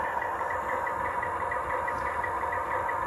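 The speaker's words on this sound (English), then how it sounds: "I'm going to bring the locomotive back a little bit further." Union Pacific U25B diesel locomotive engine running steadily nearby, a continuous low rumble with mid-range drone and a faint knocking texture, no voices.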